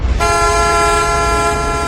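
A single loud, sustained car horn blares steadily, close by, with no voices.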